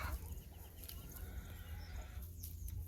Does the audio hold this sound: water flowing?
no